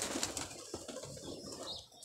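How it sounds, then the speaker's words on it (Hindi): A pigeon flies through winter fog, its faint wingbeats coming as brief flaps over steady outdoor background noise, with no voices. "ये देखो किसका धुंध में कबूतर जा रहा है।"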